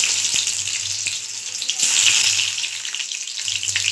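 Boiled potatoes hit hot oil in a kadai and set off a loud, steady hiss of frying. The sizzle stays continuous and fills the whole stretch, with no voices.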